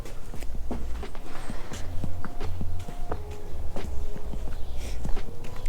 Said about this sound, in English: he's just like a full-blown horse now